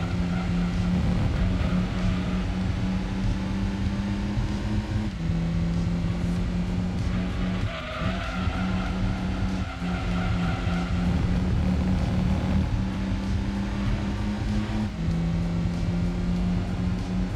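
A Lotus Elan and a Mini Cooper 1.3i race in Gran Turismo 2 on PS1, their engines droning steadily with pitch shifts at gear changes, loud and continuous without talk.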